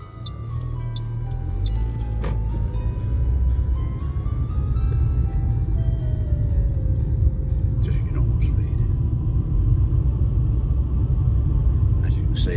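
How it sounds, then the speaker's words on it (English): A car drives along the Esplanade road at Lakes Entrance with a continuous low rumble of engine and tyres, heard from inside, with tonal whines and clicks drifting over the steady road noise. "Now we'll move on and drive along the Esplanade."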